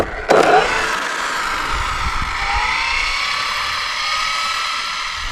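An Arrma RC car starts up with a sharp burst and then settles into a steady high-pitched electric whine that holds evenly, close by and fairly loud.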